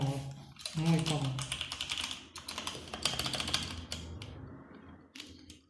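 Typing on a white Nisuta 60% keyboard with a heavy build, a run of steady key clacks at close range mixed with someone speaking over much of it.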